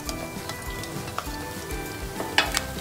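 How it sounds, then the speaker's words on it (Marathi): Whole spices, coriander among them, sizzle steadily in a spoonful of hot oil in a pan for a Maharashtrian veg Kolhapuri, a close, continuous crackling hiss with scattered sharper pops and no talk. "आता आपण एका पॅन मध्ये 1 चमचा तेल गरम करून घेतलेलं आहे। त्याच्यामध्ये मी अख्खे मसाले टाकत आहे।"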